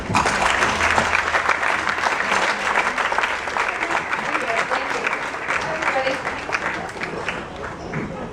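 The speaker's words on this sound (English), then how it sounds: "So I wanted to give another round of applause to the Leopard Club winner, Meg Ryan." Festival audience gives sustained, loud applause for actress Meg Ryan at the Locarno Festival, thick continuous clapping that fades slightly toward the end.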